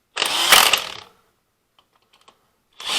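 A burst of rapid ratcheting clicks sounds as wheel lug nuts are snugged in a star pattern during a tire rotation, loud and close for about a second, then a few faint clicks and a new burst starting at the end.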